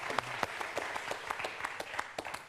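Scattered applause from a quiz show studio audience, a handful of distinct claps ringing out at an uneven pace, fairly faint and in the background.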